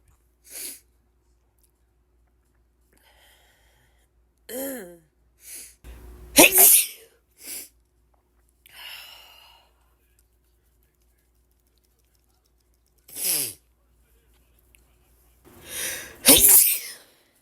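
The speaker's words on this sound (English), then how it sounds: "Guys, I can't stop sneezing." An allergy sneezing fit of several loud, sharp sneezes spread across the stretch, some in quick pairs, with sniffs and breaths between them in a quiet room.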